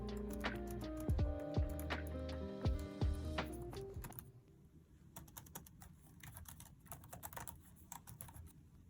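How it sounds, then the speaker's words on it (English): Quick, light taps on an iPad Pro tablet keyboard at close range, clicking in uneven bursts over a quiet background after some sustained tones fade out. "Let's test out this keyboard."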